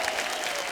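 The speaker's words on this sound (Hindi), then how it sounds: "जोरदार तालियां हो जाए मंदाकिनी जी के लिए।" Studio audience applause welcoming a guest on a Hindi comedy talk show, a brief, even burst of clapping from a crowd.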